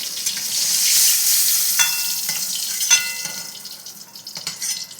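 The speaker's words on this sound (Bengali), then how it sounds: "2 পিঠি একটু করে ভালো করে ভেজে নিই একটু।" Pointed gourd frying in oil gives a soft, close sizzle with a few light clinks and scrapes as the pieces are turned.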